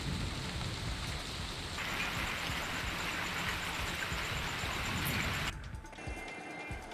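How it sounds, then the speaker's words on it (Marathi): Heavy unseasonal rain falls at midnight in Nagpur amid stormy wind, a dense steady hiss of drops close by with no voices, dropping abruptly to a lighter patter near the end. "नागपुरात मध्यरात्री वादळी वाऱ्यासह पाऊस झाला।"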